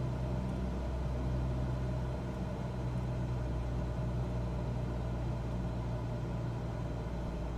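Aircraft engine in Microsoft Flight Simulator, a steady low droning hum with RPM pulled back during descent, faint and constant throughout with no talking.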